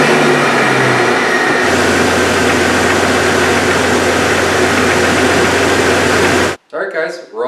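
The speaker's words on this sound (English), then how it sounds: "So now we're going to go and start up the Jeep" A Jeep Cherokee engine, just fitted with a new water pump and being refilled with coolant, settles into a loud, steady idle heard up close, with a low constant hum that cuts off near the end.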